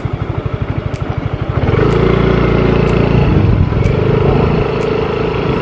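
A scooter engine while riding, starting with a low chugging idle and rising into a steady, loud drone with a few periodic ticks.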